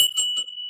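A hand bell is shaken in quick repeated rings, bright metallic clangs with a lingering high ring between strokes, close and alone.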